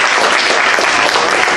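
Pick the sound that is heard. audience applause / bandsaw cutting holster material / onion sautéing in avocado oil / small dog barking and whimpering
audience applause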